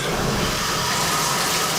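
Water pours from a shower head in a guest bathroom, giving a continuous, even hiss and splash that stays steady for the whole short stretch with no talk.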